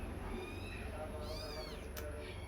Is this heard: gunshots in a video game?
no